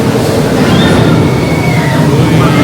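Raging Spirits looping roller coaster at Tokyo DisneySea, a loud continuous rumble of the train on its track with faint wheel squeals, heard up close from the crowded queue area.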